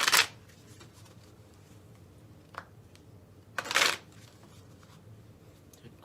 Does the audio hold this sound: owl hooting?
no